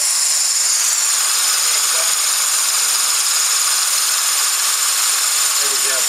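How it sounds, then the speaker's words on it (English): Air compressor running outdoors, a continuous engine-like drone with rattling texture that stays steady throughout, with brief speech near the start. "But with the compressor running outside,"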